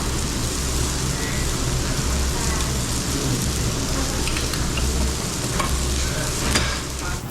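Pork belly sizzles on a Korean barbecue grill in a constant crackling hiss, close and loud, with scattered pops and a low hum underneath.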